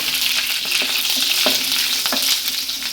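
Mustard seeds, dried red chillies and curry leaves frying in hot oil for a garlic tokku, a dense close sizzle with a few sharp pops and spatters. No one is speaking.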